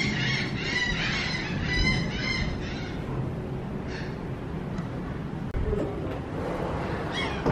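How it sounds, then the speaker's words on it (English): Loud honking and squawking birds call repeatedly on a rainy, stormy island at Coco Cay in the Bahamas, the calls heaviest at first and then thinning out over a steady wash of rain and wind. "Guys, the birds are going crazy."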